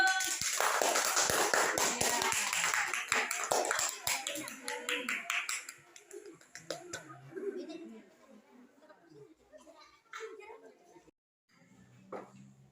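Classroom students clap their hands in a loud burst that fades after about five seconds, followed by scattered chatter and a few taps as the room quiets.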